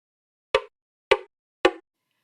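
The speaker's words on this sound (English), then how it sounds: "the woodblock sounds help you find a face" Three short, hollow woodblock knocks, evenly spaced about half a second apart, sound alone in silence as an audio cue from a computer vision system that helps a user find a person's face.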